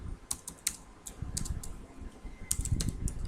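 Computer keyboard typing while code is entered, quick clusters of light key clicks in short bursts with brief pauses, close and fairly quiet, no talking.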